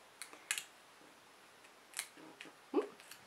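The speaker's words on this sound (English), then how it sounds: "Use the scissors to cut carefully." Quiet snips of scissors, a few separate crisp cuts spaced out over a few seconds in a still room.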